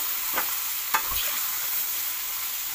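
A spoon stirs banana vegetable curry in a hot pan, with a couple of distinct scraping strokes over a steady background sizzle.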